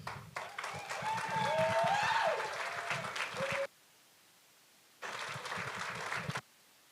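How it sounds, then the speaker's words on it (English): Audience applause at a university fall speech showcase, a steady burst of clapping for about three and a half seconds, a pause of near silence, then a second shorter round of clapping in a hall. "Next, another round of applause for John Murdoch."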